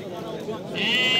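A sheep bleats in a drawn-out, rising call toward the end, with a murmur of background voices and farmyard noise throughout, at a sheep and goat market in Nookat, Kyrgyzstan.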